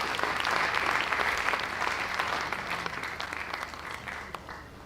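A university conference audience breaks into loud, sustained applause, many hands clapping with scattered sharp claps, gradually easing off toward the end.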